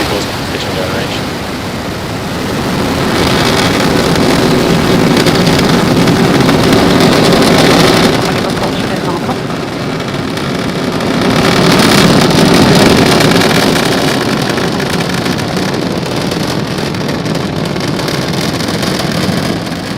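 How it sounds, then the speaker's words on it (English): A SpaceX Falcon 9 lifts off from Pad 40 at Cape Canaveral, carrying a batch of Starlink satellites; a broad, steady roar rumbles continuously and swells twice, heard from a distance and buffeted by wind noise. "Falcon 9 has successfully lifted off from Pad 40 at Cape Canaveral Air Force Station"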